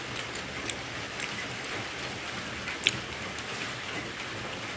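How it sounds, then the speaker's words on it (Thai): Steady rain falls in Khon Kaen, a dense, even hiss of drops on surfaces with one or two sharper drips standing out, no voices. "ขอนแก่นฝนตกทั้งวันเลยอะวันนี้"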